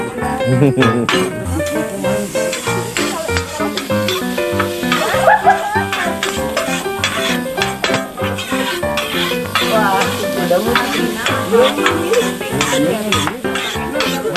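Fried rice stirs and sizzles steadily in a hot pan, with continuous frying crackle and repeated scraping and clanking of a utensil against the metal, loud and close throughout.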